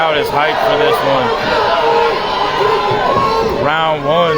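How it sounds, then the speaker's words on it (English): Excited crowd at a live Muay Thai main event, a continuous wash of cheers, whoops and shouts close and loud, with voices rising again near the end. "Crowd is hyped for this one"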